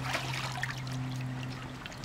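Steady trickling of water running continuously out of a leaking pool, with a low steady hum underneath and no voices.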